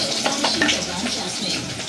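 Cumin seeds drop into hot oil and crackle with a brief, moderately loud sizzle, joined by scattered pops and light stirring.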